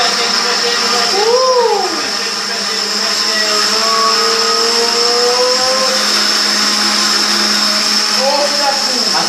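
A blender whirs loudly and steadily close by, mixing a drink, with its pitch dipping and rising as the load shifts, while people talk over it.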